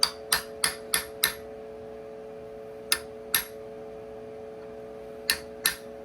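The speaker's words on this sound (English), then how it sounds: "Not a pilot hole, but punch mark where I'm going to put it as well" Sharp metallic hammer taps on a center punch, a quick cluster of five, then scattered pairs, each ringing briefly over a steady low hum.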